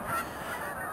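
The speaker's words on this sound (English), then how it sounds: "These are geese coming in over our Fountainville farm." Geese flying in over a farm in Fountainville, Pennsylvania, give a brief burst of honking calls, moderately distant over a steady outdoor background.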